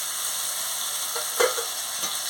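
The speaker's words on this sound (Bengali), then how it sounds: "দিয়ে ভালো করে মশলাটাকে কষিয়ে নিচ্ছি" Spice paste of turmeric, chili powder and green chilies frying in a pan makes a steady close sizzle, with one or two soft stirring scrapes partway through.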